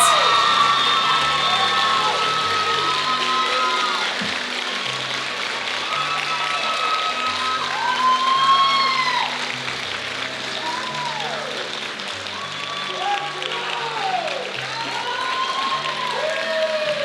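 Sustained crowd applause with whoops and cheers fills a coronation event hall for the new Hudson Ambassador, steady and loud throughout, with high excited shouts rising over the dense clapping.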